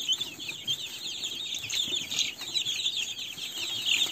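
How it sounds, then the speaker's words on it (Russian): Broiler chicks peck at nettle, giving off a steady stream of soft, high cheeps and clucks that rise and fall close by, with no talk over them. "Показываю, как любят наши бройлеры цыплята крапиву. Как они ее аппетитно клюют."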